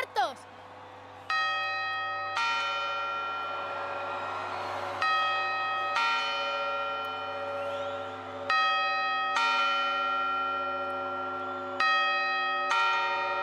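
Puerta del Sol clock in Madrid chiming the quarters before New Year, a series of bright, ringing bell strikes spaced a second or two apart, each decaying into the next, with broadcast presenters speaking briefly.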